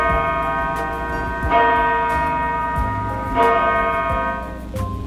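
Large bell struck several times, producing deep, sustained low tones with long ringing decay; clear strikes recur at steady intervals, loud and close with no voices.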